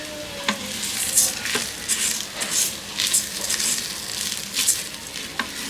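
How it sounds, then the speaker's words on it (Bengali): Soaked, drained rice is fried and stirred in a pressure cooker for pea and paneer pulao, giving a steady close sizzle with repeated scraping stir strokes and no talk. "এবার চাল দিচ্ছি। চালটাকেও একটু ভেজে নেবো।"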